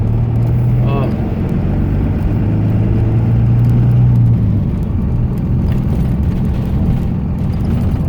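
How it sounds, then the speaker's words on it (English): A loud truck engine runs nearby, a continuous low rumble with a droning hum that swells for a few seconds, while a person speaks over it. "I got a loud truck"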